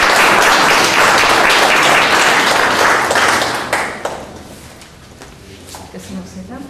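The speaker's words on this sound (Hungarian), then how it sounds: "És egy tapsot is köszönöm." Audience applause at a gallery exhibition opening, a full burst of clapping that holds for several seconds, then drops off abruptly into scattered claps and soft talk.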